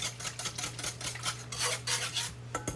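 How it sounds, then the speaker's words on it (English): Whisk scraping and clinking against a bowl while heavy whipping cream is beaten into dissolved brown sugar, a quick, busy rhythm of metallic rubbing strokes over a low steady hum. "You're going to whisk this."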